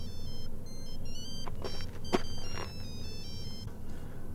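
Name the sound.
telephone ringing after dialing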